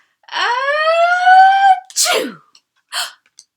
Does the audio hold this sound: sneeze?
yes